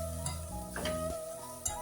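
Bitter gourd thoran gets stirred in a pan with a few soft scraping strokes of a spoon over a faint sizzle, close and quiet, with no talking.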